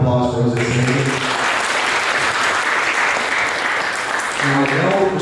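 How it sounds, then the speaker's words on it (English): Loud applause from an audience at a business talk, a full, dense burst of clapping that rises right after a voice cuts off and carries on steadily before speech returns near the end. "Another round of applause for Jose."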